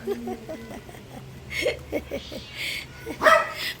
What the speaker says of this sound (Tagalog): Anong tinatahol-tahol mo dyan? Ha? Anong tinatahol-tahol nyo?